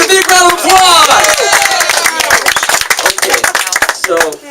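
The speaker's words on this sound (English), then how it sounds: "Give it up a big round of applause." Audience applause with cheers at a holiday networking event, a burst of clapping at first under excited voices, then thinning into scattered claps and a few whoops.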